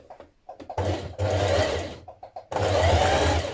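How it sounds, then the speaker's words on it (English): A sewing machine top stitches a waistband in two close, loud runs of humming, with brief taps and pauses between them. "Then you're going to top stitch 1 centimetre down from the top of your waistband"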